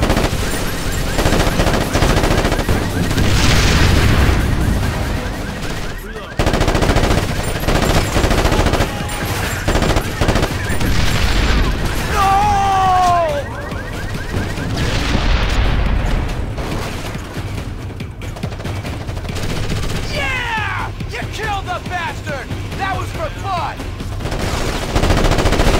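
Squad gunfire in the tactical shooter Ghost Recon Advanced Warfighter: sustained machine-gun bursts and scattered shots with occasional booms, loud and continuous throughout, with brief radio-style voices cutting in over the firefight.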